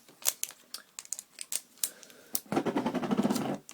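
Pieces of adhesive tape pulled and stuck crosswise onto a balloon, sharp close crackles and taps followed by a denser rubbing, squeaky burst as the tape is pressed down.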